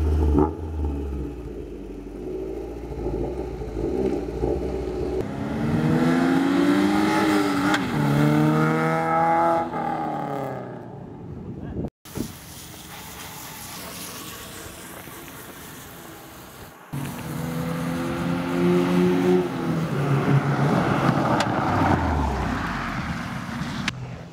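Honda CRX with an LS/VTEC engine swap revving in repeated bursts, pitch climbing and falling between idle stretches, close and moderately loud, with a couple of abrupt cut-outs.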